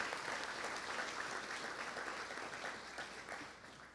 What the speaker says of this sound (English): How about a nice round of applause for all of our individual team